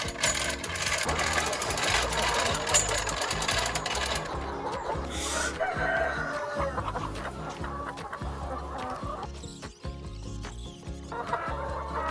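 Hens and chickens cluck and call steadily near a farm feeding spot while being given feed, a busy continuous flock sound with a mechanical hum underneath throughout.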